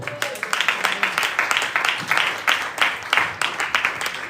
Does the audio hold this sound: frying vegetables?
no